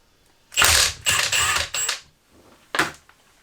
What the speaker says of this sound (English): Torque wrench to back the nut off.